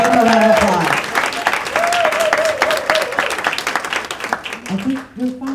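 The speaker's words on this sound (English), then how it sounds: "Give her a round of applause" Audience at a Planned Parenthood Texas Votes rally for Rochelle Garza breaks into loud applause that gradually thins out, with a voice speaking over the clapping near the end.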